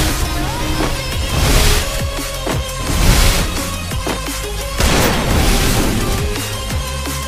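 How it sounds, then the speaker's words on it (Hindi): Shotgun blasts in a one-versus-one custom match of a shooting game, loud and close, coming as repeated booming shots in quick clusters over background game music. "शॉटगन से पूरा भर रहा है मेरे ऊपर भाई"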